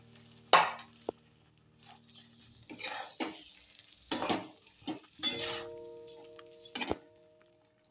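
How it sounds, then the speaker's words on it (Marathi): Stuffed brinjals drop into sizzling masala in a pan, followed by scattered bursts of stirring, scraping and clinking of a utensil against the pan, with quiet gaps between. "ह्याच्यामध्ये आता वांगी टाकून"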